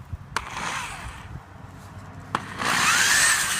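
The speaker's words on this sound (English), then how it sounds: "So I'm drilling in reverse." A power drill runs in reverse to back a screw out of a wooden board for a greenhouse, with brief whirring bursts and sharp knocks, then a louder steady grinding whine at the end.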